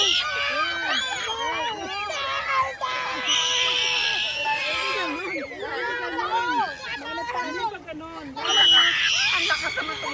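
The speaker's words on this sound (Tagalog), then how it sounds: "Ang lakas naman tumili nito." Shrill, rapid screams and shrieks from several people, probably children, ring out during a swimming lesson while other voices chatter all around, loud and close throughout.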